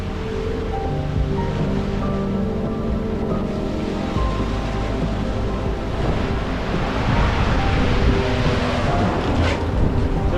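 Ocean waves slapping against the transom of a yacht at sea, a continuous rushing wash that swells louder in the second half, with wind buffeting the microphone.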